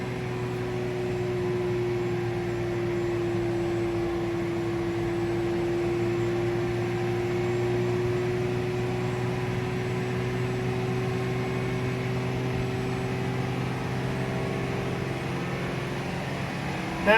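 A faulty new Land Rover Defender 110 engine revving out of control, holding a sustained high steady whine with a droning hum underneath, constant and close throughout.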